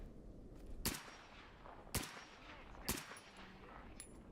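Enemy machine gun in a shooter video game, firing three sharp, separated shots roughly a second apart over a steady background hiss.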